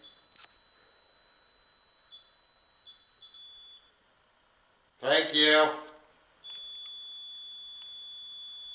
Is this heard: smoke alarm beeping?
yes